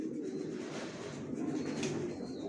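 Young white racer pigeons with leg tags, in moult, cooing softly and steadily in a loft, a low continuous murmur with no voices.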